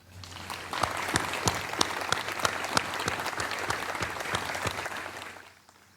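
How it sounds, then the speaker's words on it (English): An audience at a Memorial Day keynote breaks into applause, a dense burst of clapping that rises quickly, holds steady for several seconds and then fades out. "Please join me in a round of applause for David and his entire crew"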